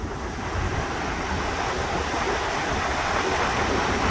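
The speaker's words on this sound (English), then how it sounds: "This here is the American Falls." Niagara's American Falls, fed by water from the Great Lakes, roars in a steady, dense broadband rush with no pauses, loud and close throughout with some wind buffeting.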